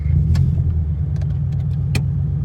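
Scion FR-S engine and exhaust, a steady low, throbbing drone heard from inside the car, with a few brief clicks and rattles over the top.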